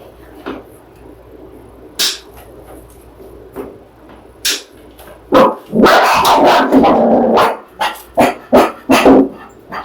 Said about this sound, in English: Somebody came in the door and she had to go bark.